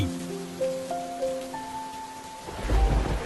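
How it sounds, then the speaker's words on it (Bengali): Steady rain hisses under a low rumble of thunder that swells near the end, with a few sustained musical tones layered over the storm. "বাইরে তো অনেক বৃষ্টি হচ্ছে।"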